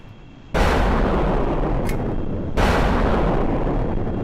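Two missile launches in Kerbal Space Program fired at an enemy F-104 jet in a dogfight, each a sudden loud rushing roar, the second starting about two seconds after the first and both continuing steadily.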